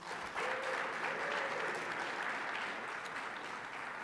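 Audience at a technology awards ceremony breaks into steady, sustained applause that fills the room evenly for several seconds, with a faint voice briefly audible early on.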